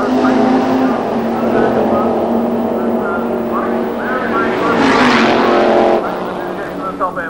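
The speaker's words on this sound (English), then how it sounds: "Both running big block engines, big block Chevy in the left hand lane, big block Pontiac in the right hand lane, and away together." Big block Chevy and big block Pontiac doorslammer drag cars roaring off the line side by side at the 1990 Santa Pod Thunderball, loud engine howl rising as they pull away under a commentator's talk.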